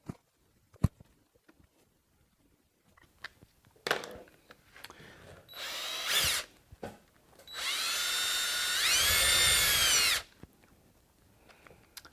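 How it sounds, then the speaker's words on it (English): A power drill whirs in two bursts, drilling a hole in a fuel cell for a return line fitting, the second longer and louder as it bites into material, between scattered clicks and handling noises. "but Todd, the next hole I drill might not be that size"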